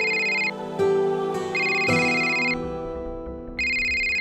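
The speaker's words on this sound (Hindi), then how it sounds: "बेटे कपिल का फोन है।" A phone ringtone plays a repeating electronic melody, loud and close, with short pauses between phrases.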